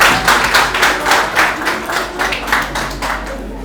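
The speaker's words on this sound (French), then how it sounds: "Sous vos applaudissements, s'il vous plaît." An audience at a Hann high school open-day ceremony applauds with dense, steady clapping in a room, a brief burst that gradually thins toward the end.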